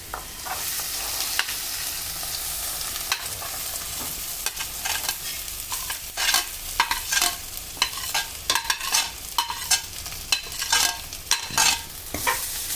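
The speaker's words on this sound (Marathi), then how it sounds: "वरी चांगली मिक्स करून घ्यायची तुपामध्ये. छान तिला खरपूस झाली पाहिजे" Barnyard millet (vari) frying in ghee while being stirred, with a soft steady sizzle broken by repeated scraping strokes of a spoon against the pan. No one speaks.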